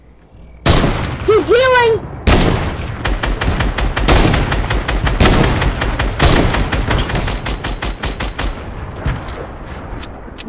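Rapid bursts of boom sniper fire and explosions in a Fortnite duos match, loud close cracks and booms in dense volleys, while players shout excitedly over the shots.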